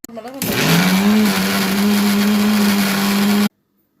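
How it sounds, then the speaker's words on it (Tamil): A mixer grinder whirs loudly and steadily, grinding a crab curry masala of black pepper and coconut; a few seconds of constant motor drone start abruptly and cut off cleanly, with no talking. "எல்லாத்தையும் அரைக்கணும். இப்போ அரைச்சிடலாம்."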